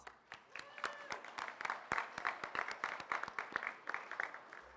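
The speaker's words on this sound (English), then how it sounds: "Let's give them one big round of applause." Students and staff at an elementary school honor roll assembly clap for pupils earning all A's and B's, a dense, steady round of applause with sharp individual claps, fairly close, rising and lasting through the whole stretch without talk.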